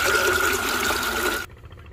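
Water pours into lassi being mixed for a goat, a loud, steady splashing stream that runs on and then cuts off abruptly near the end.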